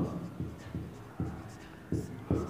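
A pen scratches across paper while a math solution is written out, in short irregular strokes with brief pauses between them. A voice murmurs faintly underneath.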